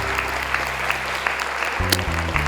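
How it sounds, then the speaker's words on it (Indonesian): Audience clapping at a children's Quran memorization show, a steady even patter of applause under sustained background music, with a low musical shift near the end. "Boleh tepuk tangan, semangat untuk mamanya"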